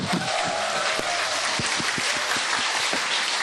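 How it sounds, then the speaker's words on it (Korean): A studio audience at a Korean lecture show breaks into dense, steady applause, loud and continuous throughout with a few sharper individual claps. "박수 한번 주세요"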